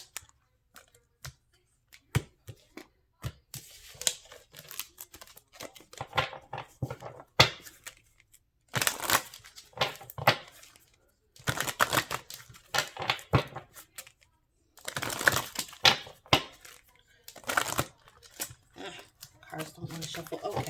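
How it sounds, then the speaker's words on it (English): A deck of tarot cards is shuffled in bursts of quick, crisp riffling and slapping, close and fairly quiet, separated by short pauses and soft handling noises. "Cards don't want to shuffle."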